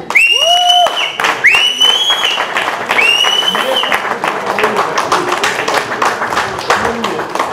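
An audience at an album launch evening breaks into steady applause to welcome a performer, dense clapping continuing throughout under several bright, whistle-like tones at the start.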